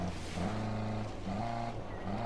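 A revving truck engine in Tom Clancy's Ghost Recon Breakpoint drones steadily with shifting harmonic pitches, straining continuously as it climbs a mountain, loud and close throughout.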